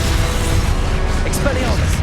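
Confringo spell blast in Hogwarts Legacy on PS5, a dense, loud burst of crackling impact noise amid busy combat effects, with sharp bright flares of sound about two-thirds of the way through and near the end.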